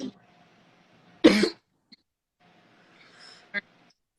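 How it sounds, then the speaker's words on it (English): A single sharp cough bursts out, followed by a softer throat noise and a brief cough-like sound later, in an otherwise quiet room. "Sorry, you're coughing."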